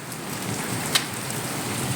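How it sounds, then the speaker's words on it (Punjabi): Heavy rain pours steadily over a village in Punjab, with strong wind and hail, a dense continuous hiss with one brief sharp tap standing out. "ਬਹੁਤ ਜ਼ਿਆਦਾ ਹਨੇਰੀ ਤੇ ਬਹੁਤ ਜ਼ਿਆਦਾ ਮੀਂਹ ਤੇ ਨਾਲੇ ਜਿਹੜੇ ਤੁਸੀਂ ਦੇਖ ਸਕਦੇ ਔਲੇ ਪੈ ਰਹੇ ਆ"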